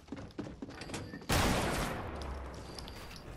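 In a first-person shooter match, a loud burst of rapid gunfire erupts suddenly and then trails off into a fading echo, after some quieter scattered thumps and clicks.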